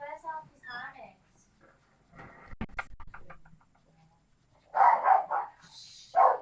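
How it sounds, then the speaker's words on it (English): An old, deaf terrier barks in a few loud, close bursts near the end, after a stretch of indoor talk and light clatter. "That's the old terrier, the grumpy. Deaf as a post, barks and growls"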